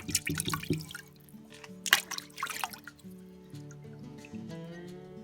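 Water splashes and drips over a freshly cut brecciated agate rock from Montana, heard in close, irregular bursts over a steady tonal background hum.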